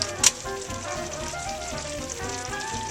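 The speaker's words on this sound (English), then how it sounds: "We're adding 1 pound of butter right now." A pound of butter hits hot caramel in a Cretors CMD 100 industrial caramelizer, giving a steady crackling sizzle after a sharp splash at the start, with a low machine hum beneath.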